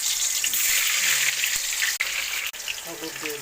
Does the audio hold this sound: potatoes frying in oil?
yes